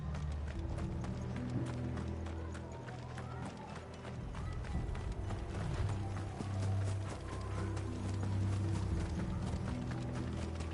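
Rapid horse hoofbeats in Final Fantasy XVI clatter in a steady running rhythm, with a low rumbling bed beneath and voices talking over it.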